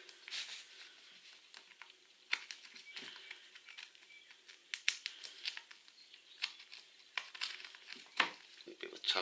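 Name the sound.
scissors cutting cotton thread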